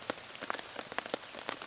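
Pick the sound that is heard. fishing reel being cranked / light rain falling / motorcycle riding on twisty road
light rain falling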